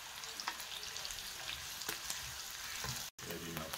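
Onions frying in a pan for fish with gravy, an even, fairly faint hiss of sizzling oil with occasional soft stirring scrapes and a momentary break near the end.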